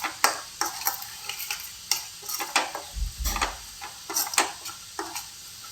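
Egg bhurji (podimas) with onions stirred in a pan over a medium flame: a close, steady run of scraping and clacking strokes with a soft sizzle underneath and no voices.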